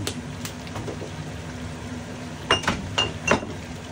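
A spoon clinks against a dish while chicken wings are mixed with garlic and sesame oil, a few sharp close taps clustered near the end over a quiet low kitchen hum.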